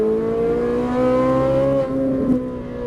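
A Ferrari 458 Italia accelerates steadily on a track, its engine holding a strong, rising harmonic drone for nearly three seconds with a brief dip and a sharp transient near the end, loud and close.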